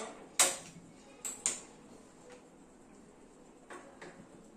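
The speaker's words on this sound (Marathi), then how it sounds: "गॅस ऑन करते" A kitchen gas stove is switched on with a few sharp close clicks, two of them in quick succession, followed by quieter faint taps, with no talking.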